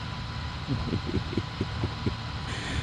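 Rental tractor engine in Farming Simulator 22 on the Attingham Park map, a low rumbling run with a series of rhythmic chugging pulses through the middle, steady and fairly close.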